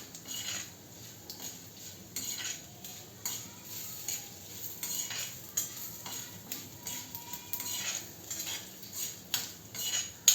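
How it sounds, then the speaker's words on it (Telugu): Soft crackling and sizzling of tempering spices frying in a pan for a split moong dal dish, with scattered light clinks and scrapes of a utensil stirring throughout. "పోపు వేగిపోతుంది."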